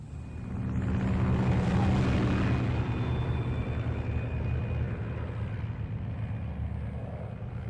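Propeller airplane flying in a Cold War video game, a loud, steady engine drone with heavy low rumble that holds constant and close throughout, with no talk over it.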